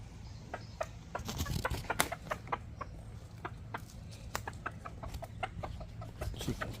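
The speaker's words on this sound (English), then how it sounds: "Chicken can't wait to get in there and tear that egg up." A chicken kept alongside quail clucks in a steady patter of short, sharp calls over a constant low background hum, moderately near and fairly quiet.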